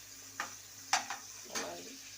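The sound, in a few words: mushroom biryani ingredients frying in oil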